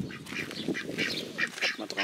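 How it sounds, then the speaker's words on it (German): Several ducks quack together near a horse pasture, a busy overlapping chorus of nasal calls close by for the whole clip. "Mal gucken, dass die Enten hier nicht reingehen."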